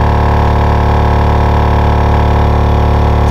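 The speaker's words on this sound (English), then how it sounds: "And now we can go in here, turn the compressor on." An on-board air compressor wired to a vehicle battery runs loud and near, giving a steady droning hum with an even rhythmic pulse throughout and no speech.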